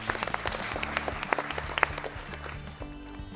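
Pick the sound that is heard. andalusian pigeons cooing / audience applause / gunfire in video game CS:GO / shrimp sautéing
audience applause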